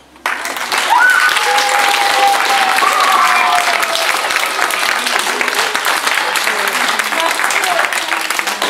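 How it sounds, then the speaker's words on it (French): An audience bursts into loud, sustained applause after a performance, dense clapping starting abruptly and continuing evenly throughout, with a voice briefly audible early on. "Je crois qu'on peut les applaudir."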